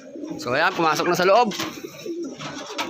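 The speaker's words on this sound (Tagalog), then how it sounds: "ito na mga ibon, mga idol." Racing pigeons coo in soft throaty bursts during a first training session, close and clear, while someone talks over them.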